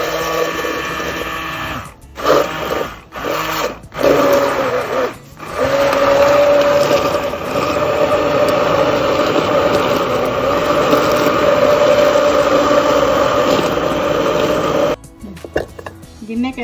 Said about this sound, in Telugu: ఇది హ్యాండ్ బ్లెండర్. ఇది ఇందులో 2 స్పీడ్స్ ఉంటుంది